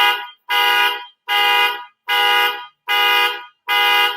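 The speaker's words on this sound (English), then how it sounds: "that's an alarm that's going off" An alarm goes off inside a radio studio, sounding as loud, harsh electronic blasts in a steady on-off pattern: six long pulses with short silent gaps, no voices over it.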